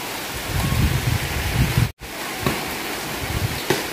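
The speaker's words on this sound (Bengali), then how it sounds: "এদিক দিয়ে জুম বৃষ্টি নামছে" Heavy rain falls steadily in a dense, even wash, with a few sharp drips and taps and one brief dropout. The sound is close and there is no speech.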